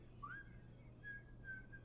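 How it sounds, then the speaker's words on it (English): A man pushing a wheelbarrow whistles as he works, a few rising and sustained tones drifting over a steady low hum, fairly faint and at a distance. "He's whistling while he works"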